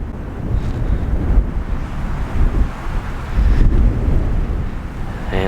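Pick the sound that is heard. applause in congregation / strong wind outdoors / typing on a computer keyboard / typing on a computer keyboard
strong wind outdoors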